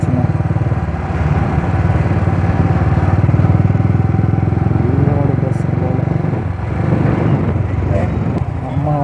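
A Yamaha R15 v3 motorcycle engine drones loudly and continuously while riding, a steady close buzz with slight rises in pitch, and a voice talks over it.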